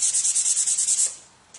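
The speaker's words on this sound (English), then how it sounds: "you really just want to scuff it up so that the paint adheres to" A gun's surface is scuffed by hand before painting, making about ten quick, rhythmic rasping strokes close up, followed by a pause and one last faint rub.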